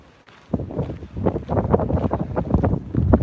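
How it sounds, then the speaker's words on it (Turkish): Strong wind at Pamukkale, Turkey buffets the microphone with loud, gusty low rumbling that keeps going without pause after a brief quieter moment. "Rüzgar var"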